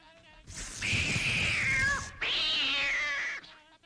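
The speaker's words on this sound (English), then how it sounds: "Here's a cat." A cat lets out two long, loud, drawn-out meows close by, each rising and then falling, separated by a short pause.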